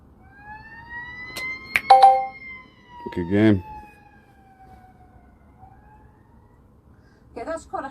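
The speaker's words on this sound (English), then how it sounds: "For example, a siren." A siren wails in long rising and falling tones, moderately loud, while a few short bursts of speech break in over it.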